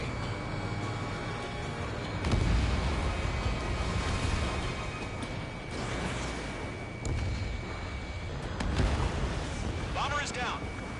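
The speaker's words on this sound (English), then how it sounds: "Missile away." A missile is launched and explodes in the combat flight game Ace Combat. Deep, loud rumbling booms roll continuously over heavy engine and battle noise, with radio-style voices talking throughout.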